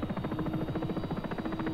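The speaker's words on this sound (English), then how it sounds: "This is where the art is in these helicopters, is getting yourself slowed down and getting into the hover." Helicopter slowing down into a hover, its rotor giving a rapid, steady thudding chop with a buzzing engine tone, loud and close with no voices.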